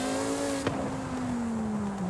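A car engine in Forza Horizon 5 with a slow manual transmission, holding a steady high-revving whine that sags slightly in pitch, with a brief knock partway through, no talking.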